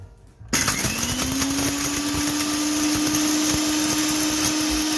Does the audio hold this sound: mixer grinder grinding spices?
yes